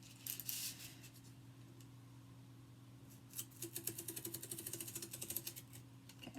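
A craft blade scores paper with faint, rapid scratching strokes in quick rhythmic bursts, quiet and close under a low steady background hum.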